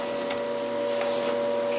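A vacuum cleaner runs steadily in a living room, a continuous loud droning whine with a sharp tonal hum, alone with no voices.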